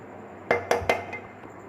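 Hyderabadi chicken biryani being served onto a dish: a few distinct clinks and scrapes of a serving utensil against crockery, sharp and close, spaced unevenly over a quiet kitchen background.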